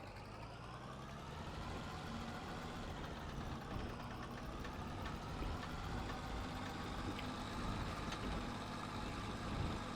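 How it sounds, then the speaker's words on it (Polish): A Zetor tractor engine drives past with a steady, continuous low rumble and mid-range mechanical drone, fairly close and unbroken for the whole stretch, with no voices over it. "Pędzi Zetor. 21 na godzinę, 22, 23, 24, 25."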